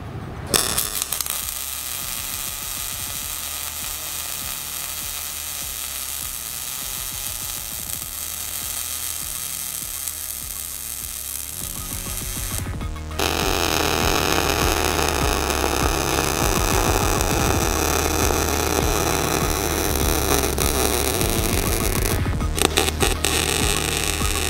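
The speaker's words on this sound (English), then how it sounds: "now we're gonna weld it out so it stays on there" Welding trailer light and license plate brackets onto a cut-down trailer frame, a steady electrical hum and crackle running continuously, louder and harsher in the second half, with brief breaks.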